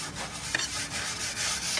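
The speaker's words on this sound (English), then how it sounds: "You're brushing the lawnmower?" A lawnmower is brushed by hand, a close, continuous scratchy rubbing with short back-and-forth strokes and one sharper scrape midway.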